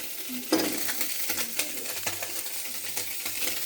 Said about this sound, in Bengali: এই চুনো মাছ ভাজলে প্রচুর তেল টানে